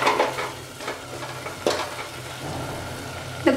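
Pepper, cumin, garlic and green chilli fry in a pan for tomato rasam, giving a steady low sizzle with stirring scrapes and a couple of sharper clatters near the start and end, close by and with no talk.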